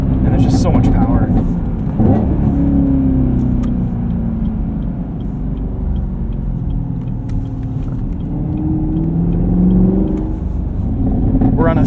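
A 2023 Chevrolet Camaro 1LT with a 3.6L V6 and manual gearbox, driven on the road: a steady low exhaust rumble rises and falls through revs with popping burbles, while someone talks throughout.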